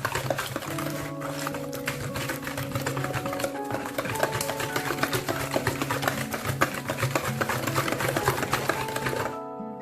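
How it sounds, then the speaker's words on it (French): An electric hand mixer whirring steadily as it beats eggs with sugar and a pinch of salt, a close, continuous motor drone with a slight rattle of beaters in the bowl, running without pause until it cuts off at the very end. "Mélanger très bien et faire blanchir le mélange."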